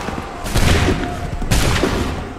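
Two loud musket volleys from a line of soldiers in Assassin's Creed 3 crash out about a second apart, each a dense, crackling burst that rolls into a rumbling tail, with battle noise underneath.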